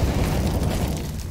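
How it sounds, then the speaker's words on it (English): A flashbang grenade going off in the CS:GO video game, a loud, broad blast that fills the whole moment with dense rumbling noise and no talk over it. "Throwing a flashbang."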